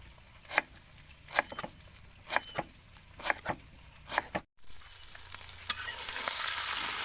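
Tok mol fries in a pan with lemongrass, a soft sizzle broken by a run of sharp spatula scrapes and clatters, briefly cut off before the frying hiss swells louder at the end.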